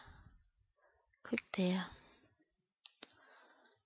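A few sharp computer mouse clicks while making cards, close and fairly quiet, with soft breathy voice sounds in between.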